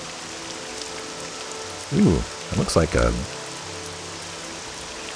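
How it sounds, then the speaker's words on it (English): Rain falls steadily as a soft even hiss in the video game Morrowind, continuing under a man's brief spoken remark. "and it's raining."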